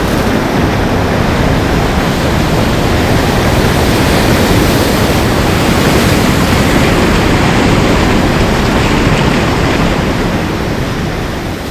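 Ocean water rushes toward the shore as a loud, continuous roaring wash of surf, broad and steady with no pause.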